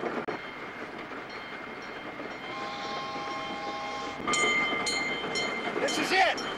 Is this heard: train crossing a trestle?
yes